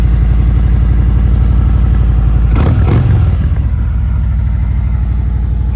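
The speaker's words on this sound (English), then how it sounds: "This Vance Hines exhaust sounds real good on here too." A 2017 Harley-Davidson Ultra Limited with a Vance & Hines slip-on exhaust idles with a deep, throbbing exhaust rumble, broken by one quick throttle blip before settling back to a loud steady idle.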